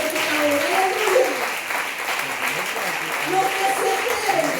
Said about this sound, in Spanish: Den un aplauso al Señor maravilloso, por favor